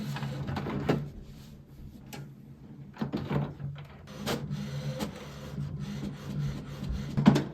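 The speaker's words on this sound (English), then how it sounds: "Don't forget to extend this small tray over here." The output tray on an HP Smart Tank 5103 inkjet printer is pulled out, giving a few short plastic slides and clicks over a low, steady printer hum.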